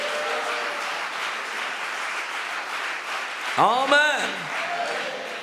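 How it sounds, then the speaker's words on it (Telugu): A church congregation at a Christmas celebration service clapping loudly, a dense, steady wash of applause that carries through the whole stretch, with one voice calling out briefly near the end. "దేవుడిచ్చిన సందేశాన్ని బట్టి గట్టిగా చప్పట్లు కొట్టి స్తోత్రం చెప్దాం."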